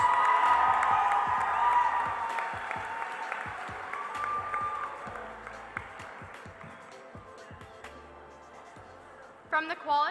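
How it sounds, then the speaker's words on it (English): Audience at a SkillsUSA North Carolina leadership conference opening ceremony applauds and cheers for quality chapters: sustained dense clapping with scattered whoops, loud throughout and gradually easing, with music or announcer sounds emerging near the end. "let's give a round of applause to our quality chapters"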